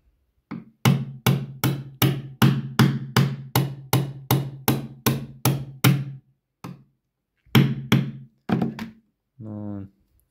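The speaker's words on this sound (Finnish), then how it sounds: "Sitten mä löin vasaralla tuon." Sharp metallic hammer blows strike a drift punch while disassembling a Tikka T1x rifle bolt, in a steady run of about fifteen, then a few slower, spaced hits follow, ending with a brief scrape.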